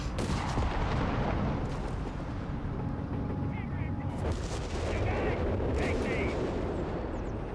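Bursts of gunfire, including a Bren gun, with heavy booming impacts in the Company of Heroes 3 video game, loud and dense throughout amid battlefield rumble, with a voice talking over it.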